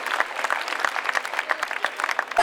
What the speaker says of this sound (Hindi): जोरदार तालियों से हम इनका उत्साहवर्धन करें।